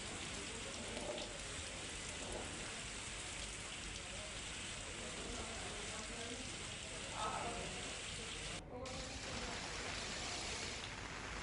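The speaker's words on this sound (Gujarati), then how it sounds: "ભાણવર તાલુકાના ગુંદા, નવાગામ, મોરજર, સઈદેવડિયા સહિતના ગ્રામ્ય વિસ્તારની અંદર ધીમી ધારે વરસાદ વરસ્યો" Light, steady rain falls continuously over rural villages in Bhanvad taluka, Dwarka district, a soft even hiss with no pauses, while a faint voice murmurs underneath.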